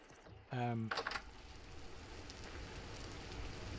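Rain falls in the video game Vintage Story as a steady, soft hiss that continues throughout, with a short voice briefly over it near the start.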